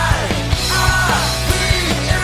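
Loud, mastered music plays as it would on a car radio, dense and full with punchy regular kick hits under bright layered melody, continuous and without speech.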